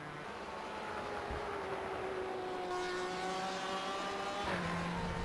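BMW and Porsche GTE race cars in a sim racing game at Watkins Glen International, their engines holding a steady, rising whine that climbs through the gears, loud and continuous, with no talking.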